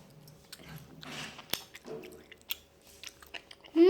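Close, crunchy chewing of edible insects, irregular crisp bites and moist mouth sounds, with a brief louder noise at the very end.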